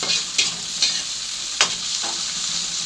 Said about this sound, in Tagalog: he already put the onions, the garlic, and the tomato, and he put some seasoning